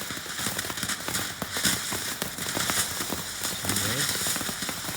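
An F1 consumer firework fountain sprays with a steady hissing, crackling rush throughout, and someone speaks over it.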